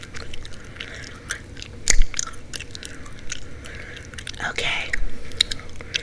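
Close, wet gum chewing with soft smacks and crunchy clicks goes on throughout, and a quiet voice speaks briefly at the start.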